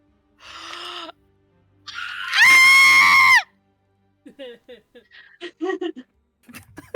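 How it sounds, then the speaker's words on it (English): During a tabletop roleplaying session, a person lets out a loud, sustained, high scream after a shorter gasping cry, followed by scattered bits of quieter talk. "Yo, that scream was a paid actor."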